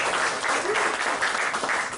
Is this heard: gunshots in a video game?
no